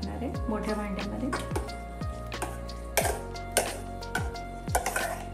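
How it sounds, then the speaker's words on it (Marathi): A spoon clinks and scrapes against metal pans while stored milk cream is scooped into a large cooking pot to make ghee, giving several sharp knocks over a steady background with a voice talking. "त्यासाठी आपल्याला ह्या पातेल्यामध्ये ही साय काढून घ्यावी लागणार आहे, मोठ्या भांड्यामध्ये."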